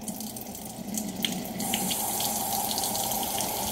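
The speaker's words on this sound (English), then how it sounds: "turning on some water" Water pours steadily from a tap into a sink, close and continuous, growing a little fuller partway through.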